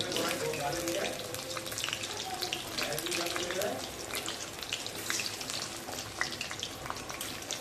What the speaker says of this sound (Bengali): এবার আমি এক এক করে আলুটা ভেজে নেব